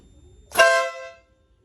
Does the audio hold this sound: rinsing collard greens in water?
no